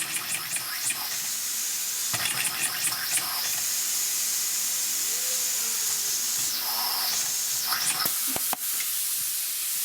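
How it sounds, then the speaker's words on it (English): Steam hisses loudly and continuously from a leaking homemade simple steam engine, with surging spurts and sputters through the stretch and a sharp cutoff near the end. "I'm losing a lot of steam, you see."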